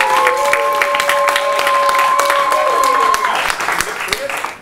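An improv festival audience claps loudly and continuously to vote for an idea, dense applause with some cheering and a sustained whistle-like tone, easing off slightly toward the end.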